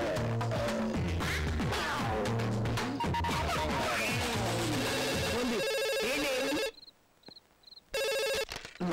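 Telephone ringing in a Telugu movie scene, a series of short electronic rings that cut through a loud, busy music score, then ring alone in a brief quiet gap.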